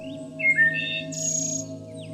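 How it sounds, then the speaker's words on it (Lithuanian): Birds chirp in a short sound effect for a children's story, bright tweets and a quick trill rising above a steady low hum, moderately loud and without any talk. "Kas per stebuklas, sučiulbo paukšteliai"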